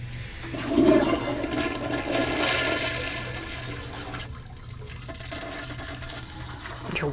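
A toilet flushes with a loud rush of water that starts abruptly, then settles into a steady gurgling refill that carries on to the end.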